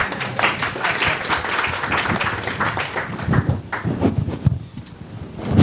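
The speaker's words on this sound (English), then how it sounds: "At least some hand clap for our team." Scattered, lively hand clapping from a summit audience at a security panel, fairly dense at first, then thinning into a few sparse claps, with no one speaking.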